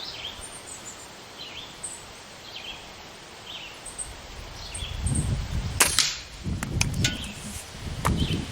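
Several sharp cracks from a Crosman CF11 Nitro air rifle firing JSB Predator 15.85 grain hunting pellets outdoors, with a few quick reports and softer clatter in the second half, while birds chirp faintly in the background.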